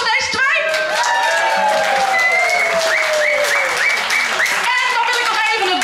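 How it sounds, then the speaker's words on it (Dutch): An audience at a rockabilly festival applauds two performers, a steady burst of clapping with whistling and cheering voices rising and sliding over it from start to finish. "Applaus voor deze twee."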